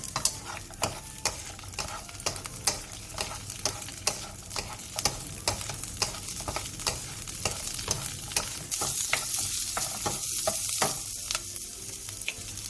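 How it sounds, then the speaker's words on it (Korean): Garlic and green onion sauté over medium heat in a spoonful of sesame oil, a steady close sizzle punctuated by regular scraping stirs of a spatula in the pan throughout, with no voices. "팬에 참기름 한 스푼을 두른 뒤 마늘과 대파를 넣고 중불에서 노릇노릇하게 올라올 때까지 볶아주세요"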